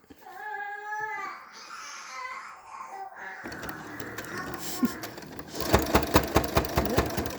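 A sewing machine stitches fabric for a washable face mask, starting after a short stretch of other sound and then running in a fast, loud, rhythmic burst of needle strokes close by.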